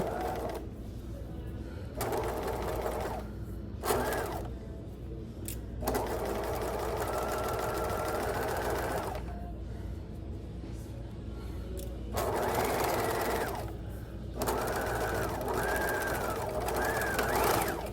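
A sewing machine runs in repeated bursts while back stitching a lap seam, its steady mechanical whir starting and stopping several times with short pauses between runs, fairly close and alone without talk.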